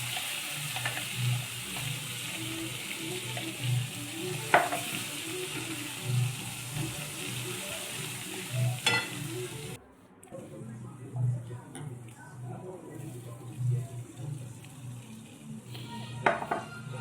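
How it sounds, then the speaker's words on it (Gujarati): Gravy with turmeric and ginger-chili paste being stirred in a pan for paneer masala, a soft scraping and sizzle with light utensil taps repeating every couple of seconds, moderately close under steady background noise. "હળદર અને હવે તમે ગ્રેવી તો નાખીને મિક્સ કરી લઈશું।"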